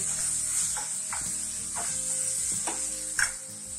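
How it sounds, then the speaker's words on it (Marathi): Turmeric being stirred into black gram frying in a little oil: a steady sizzle throughout with several scraping spoon strokes at a slow, regular pace, close and fairly quiet, no voices. "आता ही 1 चमचा हळद घालते. हळद घातल्यानंतर हलवून"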